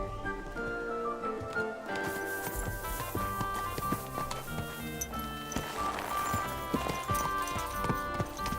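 Horse hooves clip-clopping in the medieval video game Kingdom Come: Deliverance II, a steady rhythmic trot that runs continuously over layered game music.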